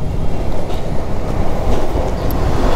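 A train runs along a railway line near Farakka on a road journey from Kolkata toward Siliguri, heard as a steady, loud, dense rumble with faint rail clatter running through the whole span, with no one talking.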